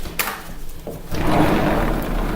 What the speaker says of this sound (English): Screen door opens and closes nicely.